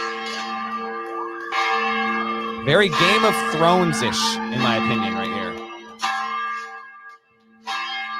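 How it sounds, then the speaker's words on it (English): A big old bell in a campus chapel rings out after a college basketball win, heavy repeated clangs with long ringing tones, loud and close, while someone talks over it. "They've got this chapel on campus, and they've got this big old bell."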